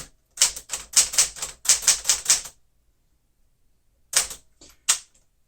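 A 1961 Smith-Corona Galaxie typewriter typing: two close bursts of rapid, crisp key strikes, a pause of silence, then a few more isolated clacks, loud and alone.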